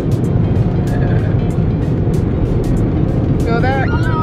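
Loud, steady roar of car wash blowers pushing air over a car from inside the vehicle, a dense continuous rush with a short whine near the end; a voice talks over it.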